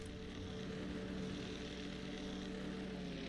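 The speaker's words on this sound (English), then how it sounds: "What's all that airplane noise?" Aircraft engine drone in the naval combat video game World of Warships: Legends, a steady propeller-plane hum filling the whole stretch at moderate level, with no talking.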